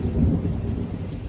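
A deep, loud roll of thunder rumbles continuously, with a broad wash of rain-like noise layered over it.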